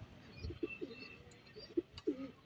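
Soft, low cooing from racing pigeons repeats several times in short bursts against a quiet outdoor background with faint chirps.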